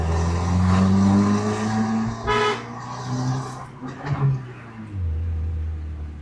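A car fitted with a modified end-can exhaust and a Valvetronic valve system revs loudly and close, with a rising burst of throttle in the middle and a steady droning idle either side.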